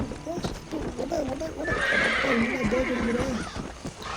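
A horse in the video game Red Dead Redemption whinnies loudly while its hooves clip-clop at a gallop, steady and close, with someone talking over it.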